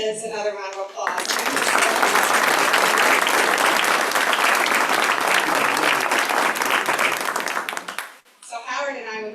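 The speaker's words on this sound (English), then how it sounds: "Let's give these kids another round of applause." Loud, sustained applause from an audience honoring students at a Purple Star ceremony, a dense wash of clapping lasting about seven seconds before tapering off, with speech just before and after.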